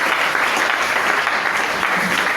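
An evangelical church congregation in Matadi claps together during a Sunday service, a steady dense burst of applause filling the room throughout.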